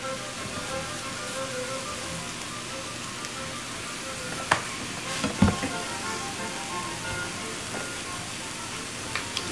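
Extra lean ground beef sizzles quietly in a pan, a soft steady hiss with a few scraping clicks and knocks as the meat is broken up.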